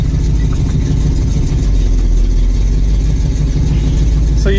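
A car engine idles loudly and steadily with a deep rumble close by while someone works to shift it into drive. No clear rev or gear clunk stands out.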